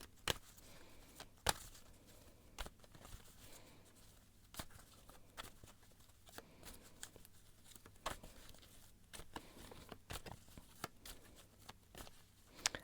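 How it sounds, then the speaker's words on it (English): Tarot cards are shuffled by hand in a quiet room, giving a string of soft, irregular riffles and snaps of card stock, close and faint with brief sharper clicks scattered throughout. "I'm going to shuffle more."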